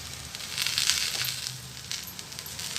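A chapati laid on an oiled tawa sizzles steadily, a close, bright hiss with soft crackles rising and falling over a few seconds, no voices.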